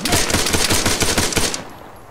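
Enemy gunfire in a video game: quick, loud automatic bursts rattle for about a second and a half, then cut off and leave near silence.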